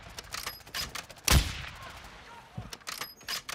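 A single loud shot cracks out in Call of Duty: Modern Warfare II during a battle royale match with a closing gas zone, standing alone above faint background game noise.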